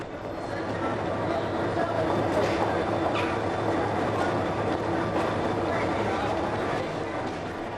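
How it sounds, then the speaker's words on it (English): An intercity train in Ireland, bound for Londonderry, pulls away from a station with a steady, loud rolling rumble of wheels on rails and faint rhythmic clatter, sustained throughout. "The intercity continues on its way to Londonderry."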